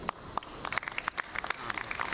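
A small crowd claps faintly at the inauguration of the Air Asia India flight from Lucknow. The scattered clapping is uneven and not very close, and it fades in and out.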